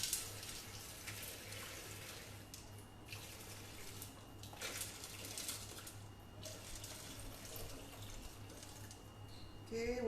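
Water pours from a tap into a container for lemongrass pandan tea, a soft, continuous trickling stream with faint drips and small splashes that rise and fall over several seconds.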